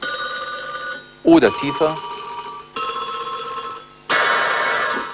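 A telephone bell rings in repeated bursts with sustained metallic tones. A voice speaks briefly partway through.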